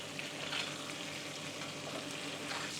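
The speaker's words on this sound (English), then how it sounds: "Give this a baste over on each one, just to get some flavour on there." Paellas sizzle steadily in the pan as they are basted with paprika butter, a continuous close frying hiss with soft stirring and spooning, no talking.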